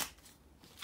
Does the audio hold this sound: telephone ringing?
no